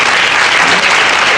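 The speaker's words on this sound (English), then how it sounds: "if you think that men need to change in some fundamental ways and do a better job at listening to you, please clap your hands" An audience at a debate breaks into loud, close applause, a dense and steady wash of many hands clapping at once with a faint murmur under it.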